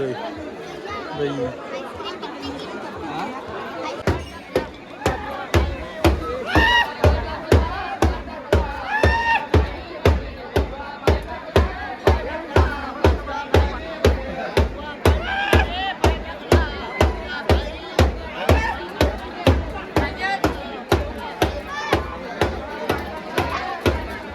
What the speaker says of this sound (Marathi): गर्दी बघा गर्दी बघा फुल गर्दी